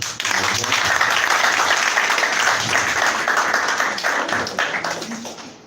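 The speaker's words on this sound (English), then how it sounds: "Please, a hand of applause." An audience at a conference summit applauds in a steady, dense burst of clapping that holds for several seconds and then begins to thin out.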